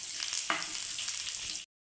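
Green chillies fry for a few seconds in oil in a hot wok, a brief, bright, close sizzle with one sharper crackle before it cuts off.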